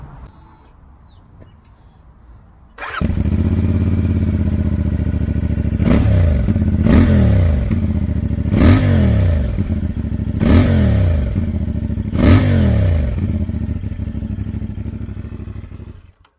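A CFMOTO 450 MT motorcycle engine starts with a sudden roar, then runs loudly and steadily with several rhythmic revs before settling and fading slightly.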